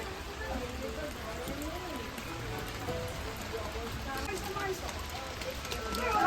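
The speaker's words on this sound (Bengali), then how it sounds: "আজকে ওয়েদারটা দেখো অনবরত বৃষ্টি" Continuous rain falls in a steady patter on nearby surfaces while people talk over it, the rain holding an even level throughout and growing slightly louder at the close.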